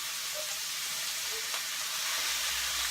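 Chopped onions sizzle and fry in a skillet while being stirred and mixed, producing a steady, moderately quiet hiss throughout with faint scraping movements and no talking.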